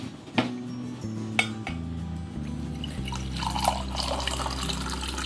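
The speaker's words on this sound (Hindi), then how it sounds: "बड़ा मग पानी डालेंगे।" Water pours from a large mug directly into a pressure cooker holding dal, a steady liquid splashing and filling sound with a couple of sharp metallic clinks near the start, over a low background hum.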